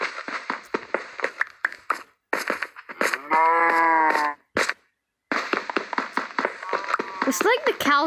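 Cows mooing in the video game Minecraft during a Hardcore survival session, several drawn-out moos in a row, one long and tonal, over clicking taps and short bursts of game noise.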